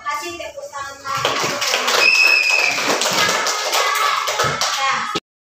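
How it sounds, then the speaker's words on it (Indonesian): A class of children claps hands together in a classroom, a dense continuous patter of many hands for about five seconds before stopping abruptly, with voices mixed in. "Kasih tepuk tangan lagi."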